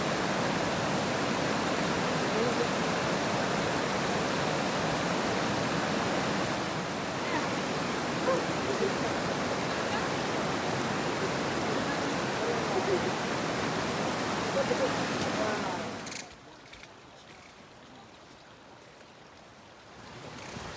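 Steady broadband rushing of river water at a tributary crossing in Peru, continuous and close for most of the stretch, then dropping abruptly to a much quieter hiss near the end.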